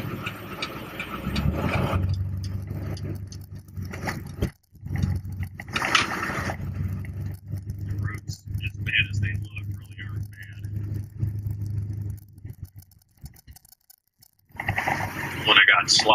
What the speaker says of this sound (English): when I got slop on the roads like this, I keep the truck at four-wheel drive.